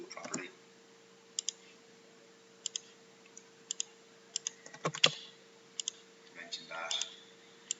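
Sharp, quick clicks of a computer mouse and keys while working in CAD software, coming in irregular single and double bursts over a quiet background, close to the microphone with faint speech.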